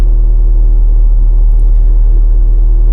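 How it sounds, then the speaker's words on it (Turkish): A car engine warming up on a cold, windy day, a steady low idling rumble with a constant hum, unchanging and close throughout. "Arabanın ısınmasını bekliyorum."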